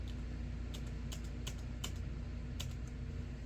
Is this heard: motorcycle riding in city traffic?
no